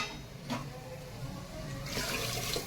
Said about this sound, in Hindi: थोड़ा पानी डाल दिया क्योंकि गाढ़ी है दाल